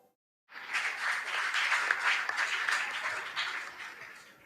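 At a school quiz competition, an audience breaks into applause for the competing schools after a moment of silence, dense clapping rising quickly and holding steady before easing slightly.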